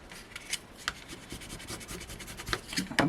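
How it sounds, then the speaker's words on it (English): A folded paper card is burnished flat with soft, quiet rubbing strokes, close and intermittent, ending in a couple of slightly firmer scrapes. "Give that a burnish on that side too."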